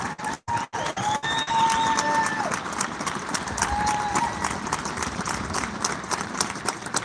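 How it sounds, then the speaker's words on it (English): Applause and cheering from the audience at a cadet class graduation ceremony, a sustained crowd noise that follows a few sharp, separate claps at the start, with whistle-like tones and voices rising over the continuous wash. "Let's give them a round of applause for what they've been able to pull off."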